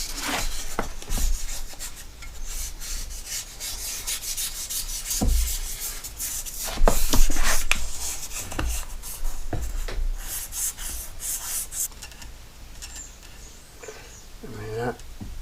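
Fine 1500-grit sandpaper rubs by hand on a part of a 1959 Johnson Super Seahorse 35 hp outboard motor, giving close, irregular scratchy strokes of varying loudness throughout.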